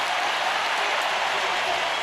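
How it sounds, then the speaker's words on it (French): A stadium crowd at a Diamond League athletics meet in Zurich gives a hurdler a dense, roaring round of applause, loud and continuous throughout. "toute la tribune se lève là devant nous pour faire une salve d'applaudissements"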